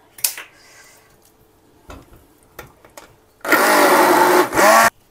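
An electric blender whirs loudly for about a second and a half, blending chicken shami kabab mixture with an egg, after a few quiet clicks and taps.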